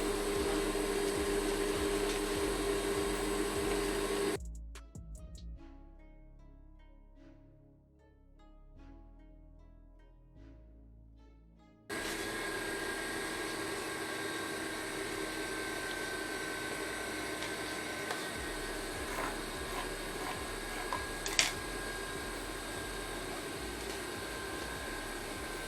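A sewing machine stitches corset pieces together with a steady mechanical whir. It stops for several seconds, then starts again and runs continuously to the end.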